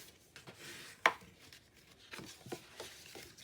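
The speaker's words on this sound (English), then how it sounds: "Folding and burnishing" Paper or card is folded and burnished for a craft base: soft rubbing and scraping strokes, close and quiet, with one sharper crisp crease near the middle and no voices.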